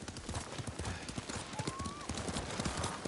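Horse hooves clip-clop in a steady, brisk rhythm in the samurai video game Ghost of Tsushima, with faint background sounds and a short whistling tone partway through.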